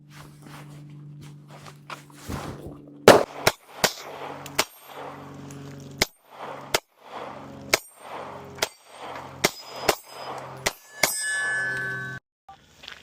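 A Bodyguard 2.0 .380 pistol fires at steel targets, about a dozen sharp shots spaced irregularly over several seconds, each followed by a ringing metallic ping from the struck plate, with no speech.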